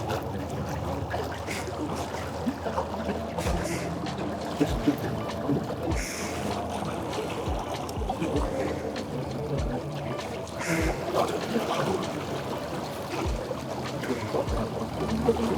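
An ePropulsion Spirit 2 electric outboard motor drives a boat at speed, a steady whirring hum under constant water rush and hull slaps, with occasional thumps from the hull hitting waves, and no talking.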